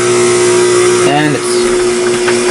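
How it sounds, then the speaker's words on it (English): Blender whirring through energy bowl ingredients until smooth, a loud continuous motor drone with a pitch dip midway as the load shifts, running alone without a break. "as I'm using the blender here, but we are going to watch this blend in real time"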